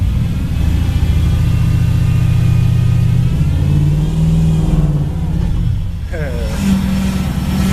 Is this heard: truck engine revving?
yes